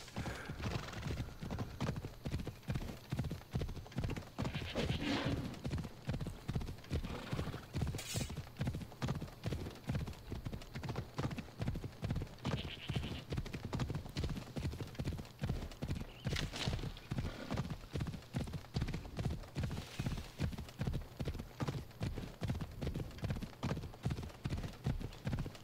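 Steady galloping hoofbeats of a horse in the video game Assassin's Creed Odyssey, a rapid even rhythm that runs throughout, with an occasional brief whinny over it.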